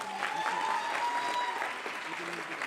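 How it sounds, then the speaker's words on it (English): An audience at a competition grand finale applauds with steady, dense clapping. Voices and faint tones run through it, and the sound eases slightly toward the end. "So round of applause to business plan number 8"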